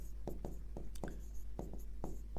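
A pen writes a Class 10 maths solution on paper, a series of quick, close scratchy strokes in an irregular rhythm against a low steady hum.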